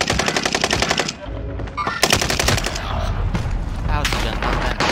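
Rapid full-auto TEC-9 bursts in a Call of Duty Warzone close-quarters fight, loud repeated rattling volleys broken by brief pauses, with teammates talking over the gunfire.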